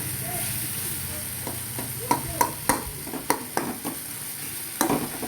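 Taro greens being stirred in a frying pan to cook off the water: a low sizzle runs throughout, with a string of sharp spatula scrapes and knocks against the pan in the second half.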